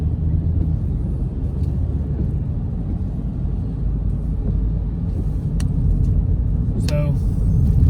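A 2021 Ford Bronco Sport Badlands drives on slick, wet, winding back roads on a rainy day, with a steady low road and engine rumble throughout and faint tyre hiss on the wet surface.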